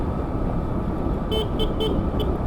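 A few short motorcycle horn beeps sound over a steady engine drone, quick toots in an uneven pattern near the end.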